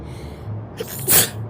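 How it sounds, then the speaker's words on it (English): A single sharp sneeze preceded by a quick inhaling gasp, close and fairly loud, with quiet background otherwise. "so if you hear me sneeze"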